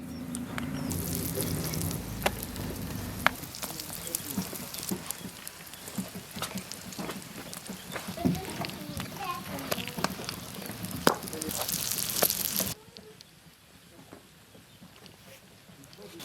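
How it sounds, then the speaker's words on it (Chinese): Filled flatbreads frying in a little oil in a flat pan, a steady crackling sizzle with scattered pops that drops off abruptly near the end, leaving quieter background. "下入包好的馅饼。"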